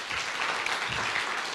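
Audience applause at a sickle cell community event in the UK, welcoming a hospital nurse: a dense, steady wash of clapping hands, fairly distant and even, with no talk over it.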